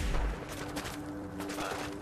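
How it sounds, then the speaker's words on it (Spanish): Gunfire in the video game Fallout 4, several sharp overlapping bursts rolling into one another over a steady hum, heavy at the start then fading into scattered reports. "Qué guapos disparos desde esta distancia."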